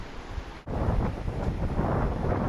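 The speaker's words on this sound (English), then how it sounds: "Looking in the opposite direction, you can see the waves breaking on the reef." Waves breaking on a reef on the Egyptian coast, heard as a continuous wash of surf heavily buffeted by wind across the microphone, with a brief dip before the roar resumes.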